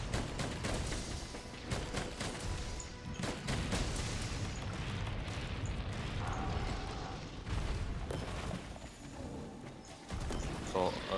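Cannon fire in Monster Hunter World, with repeated booming blasts and crashing impacts over a continuous stretch of game noise and battle effects.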